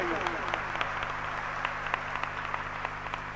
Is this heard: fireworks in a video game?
no